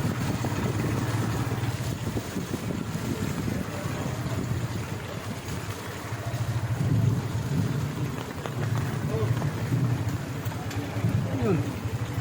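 Heavy rain pours steadily on a flooded route, a dense continuous wash of falling water with low rumbling underneath, fairly loud and close throughout.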